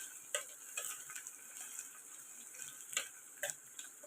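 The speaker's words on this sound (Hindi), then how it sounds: "इसको पहले हल्का सा हम फ्राई कर लेंगे। ज़्यादा ब्राउन नहीं करना है" Vegetables lightly frying in a pan for a home-style egg and capsicum dish give a faint, steady sizzle, broken by occasional soft ticks and clinks from stirring.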